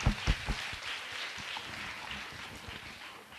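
An audience applauds steadily at a workshop, a dense wash of many hands clapping at low, distant volume, opening with a few sharper claps.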